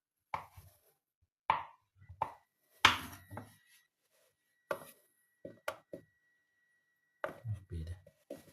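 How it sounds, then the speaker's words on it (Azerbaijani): A knife chops through a block of hard Dutch cheese on a board in sparse, crisp strokes with quiet pauses, close but faint. "Bu şəkildə pendirimizi doğrayırıq."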